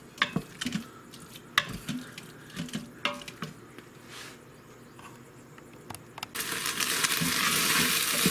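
Onions sweat in an Instant Pot as they are stirred, giving scattered scraping clacks of a utensil over a soft sizzle that swells into a louder steady hiss near the end, with no talk.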